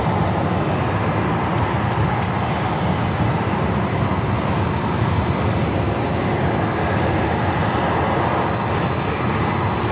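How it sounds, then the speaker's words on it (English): A Delta Boeing 767 airliner lands at LAX, a loud, steady broadband jet roar filling the whole stretch without a break, close and dominant with no talk. "you can hear we got a Delta 767 heading into 24 left"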